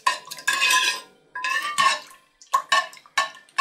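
A metal spoon stirs bread dough with salt around a metal bowl, scraping and clanking in several uneven bursts, loud and close, with short pauses between strokes.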